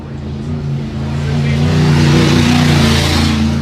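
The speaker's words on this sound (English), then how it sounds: "That motor sounds pretty good. That motor sounds strong." A loud off-road race truck engine revs and drones steadily at a high desert race, rising slightly in pitch as it builds, with a rough, throaty rumble throughout.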